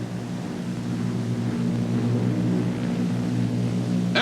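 A Consolidated Model 36 bomber on a landing approach with wheels down, its piston engines giving a steady, loud droning hum with strong low harmonics, constant throughout with no talk.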